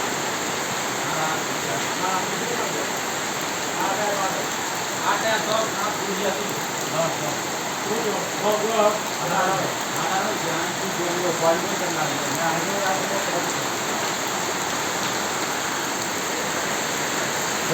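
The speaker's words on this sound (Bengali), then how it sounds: "কোনো বাতাস নাই শুধু বৃষ্টি আর বৃষ্টি" Heavy, windless rain pours down as a dense, steady hiss of water on surfaces, with a voice talking intermittently over it.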